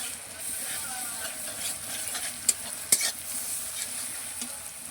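Garlic paste fries in oil in a pan with a close, steady sizzle, broken by stirring strokes and two sharp clinks of a utensil against the pan midway.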